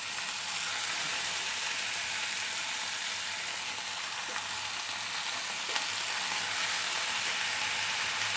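Fenugreek leaves dropped into a hot pan for a tomato fenugreek curry, giving a steady, bright sizzle and crackle of frying throughout, fairly close and with no talking.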